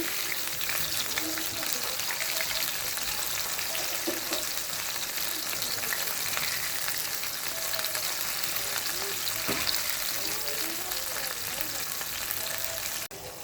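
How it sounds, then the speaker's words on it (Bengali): Chicken leg pieces frying in a wok, a loud, continuous crackling sizzle that holds steady and close throughout, with a few faint knocks of stirring beneath it. "চিকেনগুলো ভাজা হয়ে যাচ্ছে"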